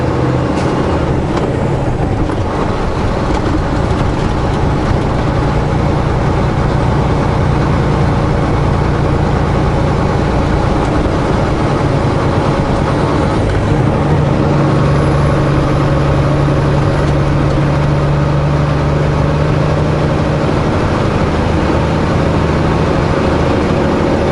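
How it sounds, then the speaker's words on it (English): A pickup truck engine runs steadily through a diesel particulate filter regeneration while driving on early-morning streets between Osoyoos and Oliver, a continuous low rumble with a sustained hum and road noise, no talking. "Sounded like my truck was doing a regen."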